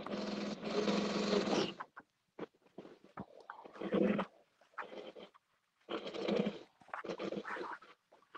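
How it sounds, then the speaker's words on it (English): A sewing machine stitches a cargo pocket onto a garment, running in several loud bursts of steady whirring separated by pauses and faint handling noises. "Stitch the cargo pocket on there."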